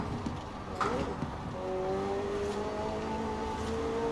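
A McLaren 600LT supercar in Forza Horizon 4 pushed hard through corners, its engine a steady whirring drone that climbs in pitch as it accelerates, with a brief sharper transient near the start.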